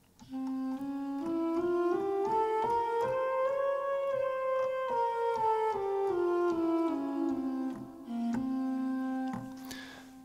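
A scale played on sampled orchestral instruments in Logic Pro with lowered second and seventh steps, giving a Super Mario desert-style melody; sustained notes step up and back down in a smooth line over a plucked rhythmic accompaniment, with no voices.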